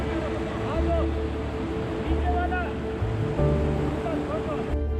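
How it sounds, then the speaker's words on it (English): A cold glacial stream flows steadily on a high mountain trek toward Khatling Glacier, a constant loud rush of water with wind buffeting the microphone and occasional voices beneath. "dipped our feet on the flowing glacial stream."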